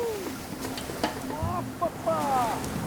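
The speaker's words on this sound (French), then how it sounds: "Le vent est en train de forcir et de tourner." Steady wind noise at sea on the Ria d'Etel in Brittany rushes over the microphone with a broad hiss and low rumble, while voices speak faintly underneath.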